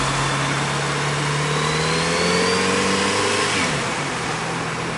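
Kawasaki Z900RS motorcycle engine revving and pulling through city traffic, a steady mid-pitched drone with rising pitch sweeps as it accelerates, loud and close with wind rush throughout.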